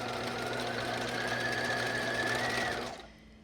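A sewing machine stitches a seam in knit fabric for a skirt, starting with a back stitch, running as a smooth steady whir for nearly three seconds before stopping abruptly into quiet.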